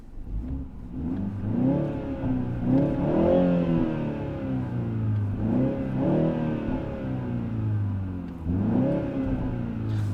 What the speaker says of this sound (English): let me rev it up, and hope you guys can hear it.